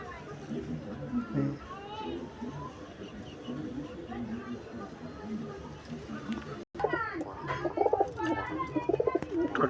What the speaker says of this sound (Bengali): পায়রাগুলো ধরে দেখাচ্ছি।